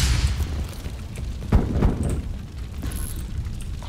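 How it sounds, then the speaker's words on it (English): A flashbang grenade goes off in Call of Duty: Black Ops Cold War, a low boom and thump with a bright ringing tone near the end, set over steady game noise. "Using flashbang."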